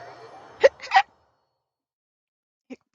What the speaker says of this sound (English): Hiccups are still the worst.